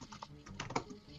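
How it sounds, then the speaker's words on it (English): Keys on a computer keyboard click in a quick, uneven run of taps during an online voice call. The typing is faint and close, and no one talks over it. "Typing."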